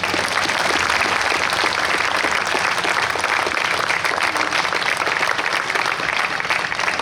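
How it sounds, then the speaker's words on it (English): A crowd applauds at a New York State Police special operations response team demonstration, with loud, dense, continuous clapping that holds steady throughout. "we think it's those guys that deserve the real round of applause today."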